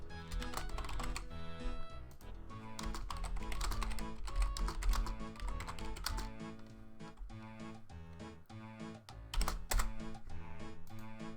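Rapid, loud clatter of keys on a computer keyboard placed right beside the microphone, with irregular bursts and brief pauses across the stretch and no talking.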